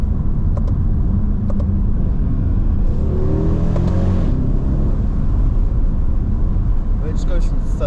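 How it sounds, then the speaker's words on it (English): A 2010 Mercedes E63 AMG engine drops a gear in manual mode, a loud close rumble that swells into a brief rising roar midway before settling back to a steady drone, with people talking over it. "Downshift."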